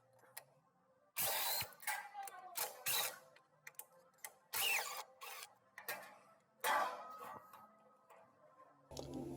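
Ratchet loosening the lower shock absorber bolts on a 1996 Dodge Dakota, heard as repeated bursts of rapid clicking, several loud close strokes with short pauses between them.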